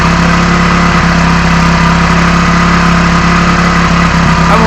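A motorcycle engine revs steadily upward past 4000 rpm, a loud, continuous close-up drone with no voices over it.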